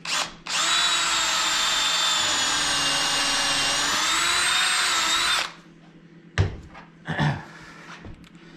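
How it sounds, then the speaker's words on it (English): A power drill whines loudly and steadily for about five seconds while pre-drilling screw holes in a cherry bathroom vanity cabinet, then stops, followed by a few short clunks and scrapes. "And now I'm going to just pre-drill for some screws."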